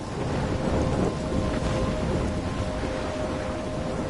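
In the video game Life is Strange, a thunderstorm roars as a steady wash of heavy rain with low rolling thunder, dense and loud throughout, with no voices.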